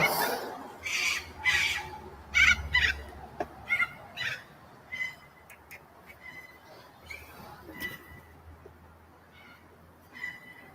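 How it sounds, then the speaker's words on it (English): Birds squawking outdoors: several loud, harsh calls burst close by in the first seconds, then fainter scattered squawks continue over quiet background noise. "The birds."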